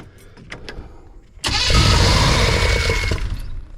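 Car engine cranking and catching after the distributor is plugged back in, with faint clicks first and then a loud, rough, sustained turning-over roar close by.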